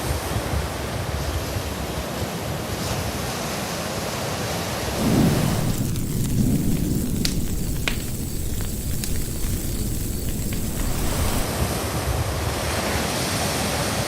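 Sea waves wash steadily onto the shore at Mundesley on the North Norfolk coast, a continuous loud rushing roar with a brief swell midway and light wind noise, heard from the promenade with no talking.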